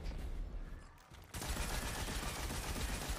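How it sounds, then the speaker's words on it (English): Thunderlord machine gun firing in Destiny 2, a dense, continuous roar of rapid shots that kicks in partway through and stays loud to the end. "I'm going to use the Thunderlords to try to clean up ads as quick as possible"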